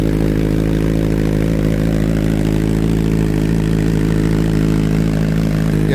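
A Suzuki Hayabusa motorcycle engine idles close by with a steady, deep, even rumble that holds constant and loud throughout, with no speech over it.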